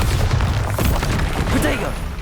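Bombarda explosion spell in the Hogwarts Legacy video game, a dense booming blast with heavy low rumble that fills the short moment amid the clutter of combat effects.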